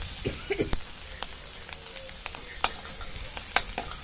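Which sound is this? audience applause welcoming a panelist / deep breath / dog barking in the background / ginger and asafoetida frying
ginger and asafoetida frying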